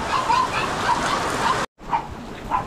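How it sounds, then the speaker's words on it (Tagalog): Heavy rain pours in a steady dense hiss, close and loud, broken by a brief dropout midway, with a few faint higher tones over the wash. "sobrang lakas na naman ng ulan."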